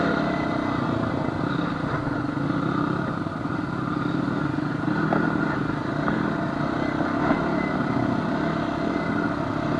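Honda CR250 dirt bike riding on a trail, a close, continuous two-stroke engine drone with clattering and scraping, steady throughout without talk.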